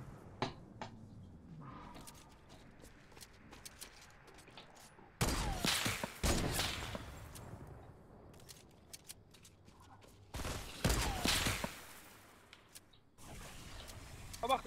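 Sniper rifle fire in the Fortnite video game: sharp, loud shots with noisy bursts around the six-, eleven- and fourteen-second marks, heard over quieter game ambience and scattered clicks.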